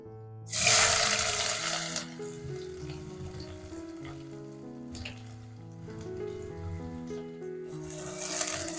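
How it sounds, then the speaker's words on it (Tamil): Two long-sliced onions hit hot oil in a pan with a sudden loud sizzle, and the frying then settles into a steady crackle that swells again toward the end. "இதுல நல்ல ஒரு 2 வெங்காயம் நீட்ட வாக்குல கட் பண்ணி வச்சிருக்கேன், அதை சேர்த்துக்கலாம்"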